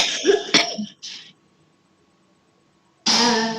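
A woman gives a short burst of harsh coughs up close, then a quieter throat-clearing rasp. After a brief silence the coughing starts again loudly.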